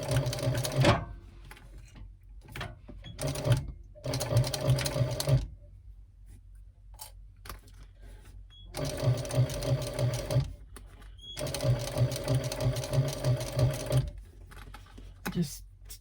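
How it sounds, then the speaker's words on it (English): A sewing machine stitching binding onto a handbag runs in loud, close bursts of rapid, even needle rattle, stopping and starting several times with quiet gaps between runs. "gently stitch along that binding, keeping as straight as you can."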